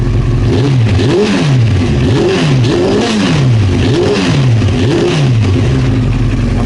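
A Honda CBR 900 Fireblade engine with running issues revs repeatedly in loud, close, rhythmic surges, its pitch rising and falling about once a second over a constant rough idle.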